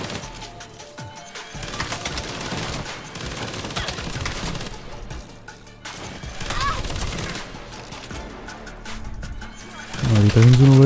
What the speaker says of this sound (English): Alter, macht der richtig Bock mit der Minigun hier.